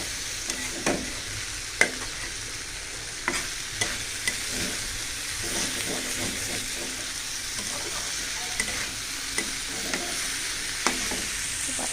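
Vegetable bhaji frying in a pan, a steady soft sizzle broken by repeated sharp scrapes and clacks of a spatula stirring, close and alone with no voices.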